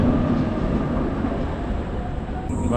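A modern tram rumbles steadily past at close range on a Prague street, a continuous low rolling drone with faint metallic clatter throughout.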